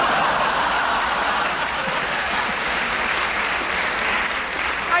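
Studio audience clapping at a British radio comedy panel game, a steady, even wash of many hands sustained across the whole stretch without talk.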